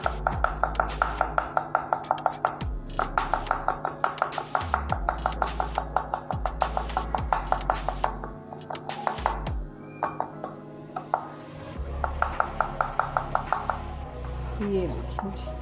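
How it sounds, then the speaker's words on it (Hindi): Garlic being chopped with a knife on a board for a white makhni koila karahi, with rapid, even runs of close, crisp knife strikes in several bursts separated by short pauses, while a person talks over them. "सबसे पहले हमने अपने ये जो गार्लिक लिया ना, हमने इसको कर लिया है चॉप"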